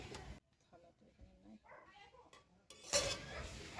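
A spoon stirs poppy-seed curry with potato and pointed gourd in a pan. Soft scrapes and clinks sit near the microphone while a voice talks, and the stirring grows into louder, denser sizzling and scraping toward the end.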